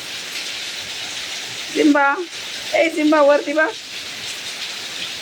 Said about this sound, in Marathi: खूपच पाऊस पडतोय आज.